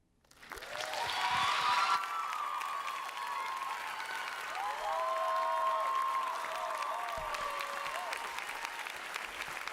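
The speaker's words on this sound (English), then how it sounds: "Give it another warm round of applause for Hannah." An audience at a university diversity monologues event breaks into warm, sustained applause that swells quickly and holds steady for several seconds, dense clapping filling a hall, with a few whoops and cheers rising through it.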